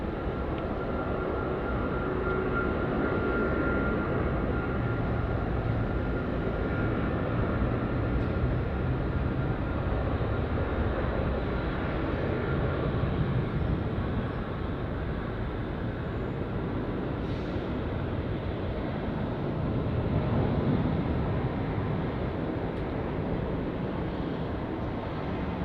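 A large jet airliner, Bohemia flight 018, roars steadily down the runway and climbs away at Sydney Airport, a broad continuous engine rumble holding for the whole stretch with some wind buffeting and no talk.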